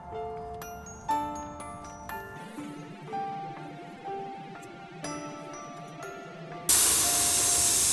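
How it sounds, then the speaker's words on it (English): Pink spray paint hisses from an aerosol can onto a nightstand during a furniture makeover, in a few short bursts and then a loud sustained spray, with a faint tinkling in the background. "So why am I spraying pink paint on it right now?"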